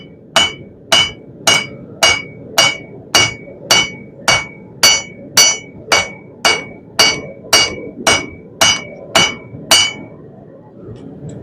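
A hammer strikes the edge of a steel herb chopper blade on an anvil shelf, forging the bevels: about twenty sharp, ringing metallic blows in a steady rhythm, close and loud, with no voices.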